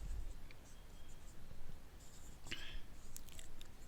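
A pen writes out the rows of a determinant on paper or a board, faint scratchy strokes with a sharper burst of scribbling partway through, close and quiet over background hiss.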